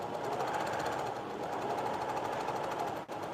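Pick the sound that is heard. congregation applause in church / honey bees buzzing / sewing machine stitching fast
sewing machine stitching fast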